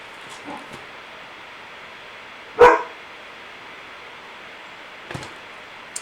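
A dog barks once, loud and sharp, with a few fainter yaps and distant thumps scattered around it over quiet background noise.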